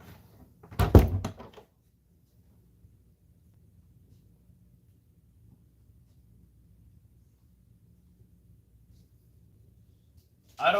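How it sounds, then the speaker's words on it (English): A door in an 1889 villa is shut with one loud, heavy thunk near the start, followed by a long stretch of near silence and low room noise before another brief bump at the end. "I'm gonna shut this door, okay?"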